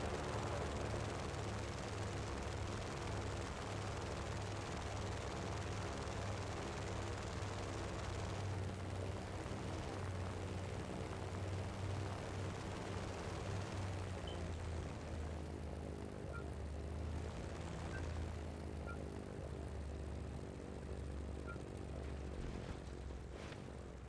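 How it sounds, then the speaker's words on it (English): Propeller airplane coming in to land on a landing strip in the video game Just Cause 3, a loud continuous engine drone that holds steady and shifts slightly in pitch as it descends, with no talk. "I'm gonna say that was a successful landing."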